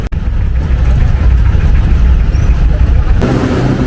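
A jeepney engine in Manila, Philippines runs loud and close, a steady low rumble that shifts in tone near the end.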